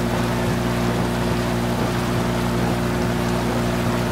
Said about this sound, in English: Wow, what a rain.